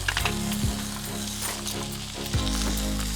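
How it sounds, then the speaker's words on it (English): Cajun chicken pasta sizzles loudly and steadily on a Blackstone griddle, with scraping stirs of a utensil cutting through the frying noise several times, close by and without talk. "So we're going to stir this up."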